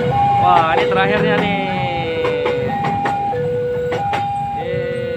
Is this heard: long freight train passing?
yes